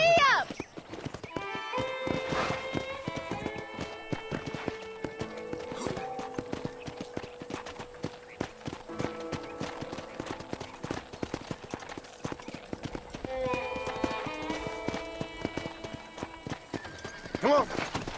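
A horse's hooves clip-clop in a steady gallop in the video game Red Dead Redemption, with neighs and whinnies near the start and end, heard under background music and voices.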